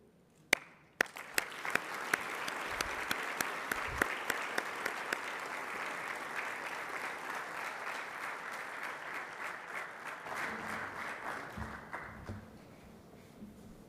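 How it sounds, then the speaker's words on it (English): A warm round of audience applause fills a launch event for a Fourth Industrial Revolution centre in Kigali, starting with a few sharp claps and swelling into sustained, fairly distant clapping that tapers off toward the end. "Please, a warm round of applause"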